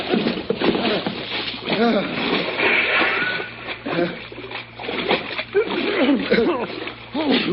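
Splash of someone going overboard into cold water in a classic radio drama, heard as churning, sloshing water under overlapping voices talking throughout.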